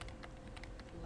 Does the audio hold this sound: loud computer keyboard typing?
yes